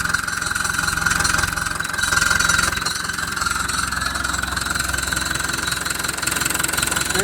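A White Field Boss 2-65 tractor engine idles steadily with a rapid knocking, mechanical clatter, heard close and continuous with no talk.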